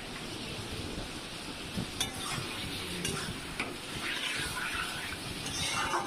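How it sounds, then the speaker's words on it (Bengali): Beef being stirred with ginger-garlic paste and salt in a hot pan for beef do pyaza, a steady close sizzle with occasional scraping clinks of the spoon throughout. "নুন দেওয়া হয়ে গেলে একটু নাড়াচাড়া করব।"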